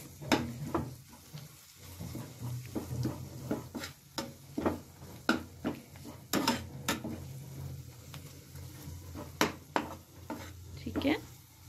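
Spices with asafoetida being stirred in a hot pan for bhindi masala, a quiet run of scraping clinks and soft taps over a low steady sizzle, irregular and close.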